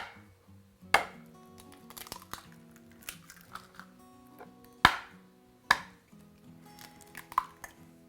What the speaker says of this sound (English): First we're going to start by cracking 2 eggs into a bowl.